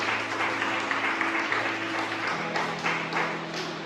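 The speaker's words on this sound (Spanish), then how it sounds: "Vamos a darle un aplauso al Señor." Congregation applauding during a church worship service, dense steady clapping throughout, with a faint sustained tone from music or a held note running underneath.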